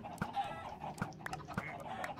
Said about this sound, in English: we need to seriously scale down the chicken farm